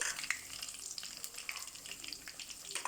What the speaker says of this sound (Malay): Okey, sekarang saya nak masukkan bawang putih.